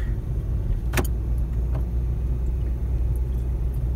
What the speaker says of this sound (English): First gear. Going up this hill here.